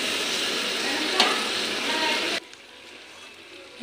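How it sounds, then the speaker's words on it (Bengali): Duck meat and potatoes with salt and turmeric sizzle and spit in a hot pan, a loud, steady frying hiss that suddenly drops to a much quieter simmer partway through. "এখন ভাজা করে নিই"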